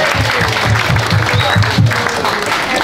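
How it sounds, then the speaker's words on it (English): Audience applause at a blues club Christmas party, a dense, steady wash of clapping filling the room, with low rhythmic thumps of music or crowd noise underneath. "give yourselves a big round of applause"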